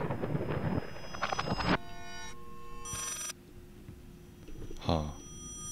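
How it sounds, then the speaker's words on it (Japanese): An old-style telephone bell rings in the horror video game Layers of Fear, sounding in two bright, clear bursts separated by a pause, followed by a brief voice near the end. "電話が鳴ってますけど"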